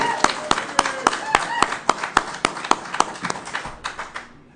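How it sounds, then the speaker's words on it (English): A small audience at a company bell-ringing ceremony gives a round of applause, with loud, distinct, fairly rhythmic claps standing out over a busy background and fading toward the end. "I think that deserves a round of applause."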